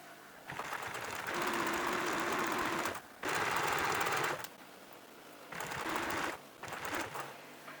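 A sewing machine back stitches a pencil case seam in three bursts of fast, even needle clatter, each run stopping briefly before the next, close and fairly quiet.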